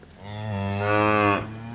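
A heifer at a cattle sale gives a single loud, close moo that swells and then breaks off, heard alone without talk.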